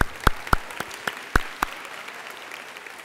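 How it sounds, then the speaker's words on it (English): Sparse, scattered handclaps from an audience at a Juneteenth celebration event, a handful of separate sharp claps over a few seconds rather than a full roar, fading out toward the end. "just give yourselves a round of applause for being here."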